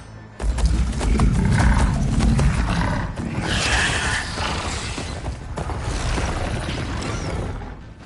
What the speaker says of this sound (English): They're riding machines!